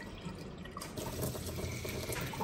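Water runs faintly from a Whirlpool reverse osmosis filtration faucet at a sink, a soft steady trickle with slight splashing, quiet and without any talking.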